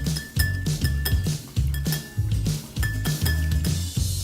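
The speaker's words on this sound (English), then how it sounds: "Just gonna whisk it up a little bit." Eggs are whisked in a bowl, a quick steady clinking of the whisk against the sides repeating in a brisk rhythm, close and clear with no voices.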